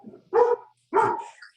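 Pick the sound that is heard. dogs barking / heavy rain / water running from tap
dogs barking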